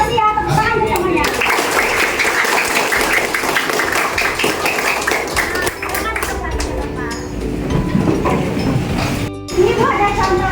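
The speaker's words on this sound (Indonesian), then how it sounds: "tepuk tangan buat semuanya" Applause from a class of children after a teacher's concentration game, dense clapping mixed with children's voices and chatter filling the room throughout.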